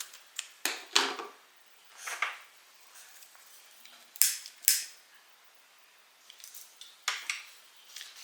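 Scissors cut off metal zipper teeth while sewing, giving several sharp clicking snips at irregular intervals, close up and fairly loud against a quiet background.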